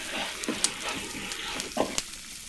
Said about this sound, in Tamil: ஒருக்கா நல்லா கிளறி விடுவோம்.